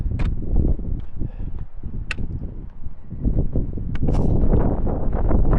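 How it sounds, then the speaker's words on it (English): Gusty wind buffeting the microphone in low rumbling surges, with a few brief sharp clicks and rustles over it. "It's windy up here too."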